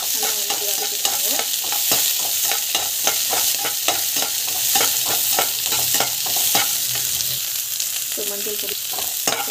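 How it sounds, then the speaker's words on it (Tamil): Mustard seeds, cumin, chana dal, onion and green chili being sautéed in hot oil: a loud, continuous sizzle punctuated by rapid, regular scrapes of a spoon against the pan. A brief spoken remark is heard. "இந்த ஸ்டேஜில் கடுகு, சீரகம், ஸோ கடலைப்பருப்பு, வெங்காயம், பச்சை மிளகாய் ஸோ நல்லா வந்து வதக்கிட்டுருக்கோங்க."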